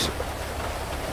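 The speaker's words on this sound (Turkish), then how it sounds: "Ana yağmur da başlamış." Steady rain falls in the game GTA 5 (FiveM), a dense, even hiss of drops that fills the short stretch at moderate level with no talk over it.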